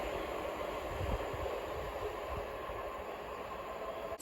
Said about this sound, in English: Now arriving is the 1404 London Overground service from Hybri in Islington to Crystal Palace, being worked by 378154.